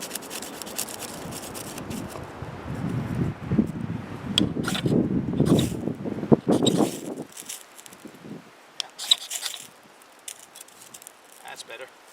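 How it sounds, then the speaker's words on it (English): Wind buffets a microphone outdoors beside wood gas camping stoves, with loud gusty rumbles during the first half that then ease off, and a voice speaking over it. "The wind is playing a bit havoc."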